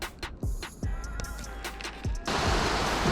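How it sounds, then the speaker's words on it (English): Water pours steadily from a golf course pond outlet, with a broad hiss that grows louder toward the end, mixed with scattered knocks and handling noises nearby. "Let's get out of the way of that waterfall so y'all can hear me."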